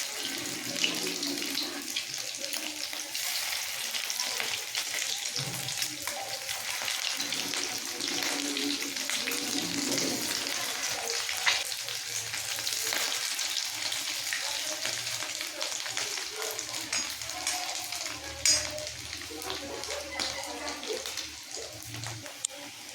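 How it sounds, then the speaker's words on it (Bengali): Egg fritters fry in hot oil, giving a steady bubbling sizzle that runs the whole time at an even, fairly close level, with occasional faint clinks as pieces are turned. No one speaks over it. "এই দেখো, বড়ার দু পিঠই ভালোভাবে ভাজা হয়ে গেছে।"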